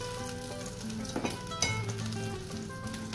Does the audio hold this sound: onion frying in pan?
yes